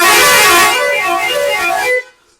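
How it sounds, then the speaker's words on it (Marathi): A loud musical car horn plays a short tune of shifting pitches, then cuts off abruptly. "तसंच गाडीला लाला हॉर्न बसवलेलं आहे"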